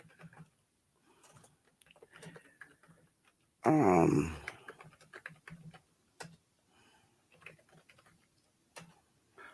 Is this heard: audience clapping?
no